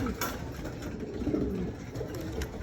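Pigeons coo softly nearby in a low, rolling murmur, with a faint mechanical hum in the background.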